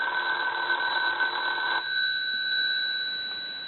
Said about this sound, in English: Sounds a little more like a bell should sound now.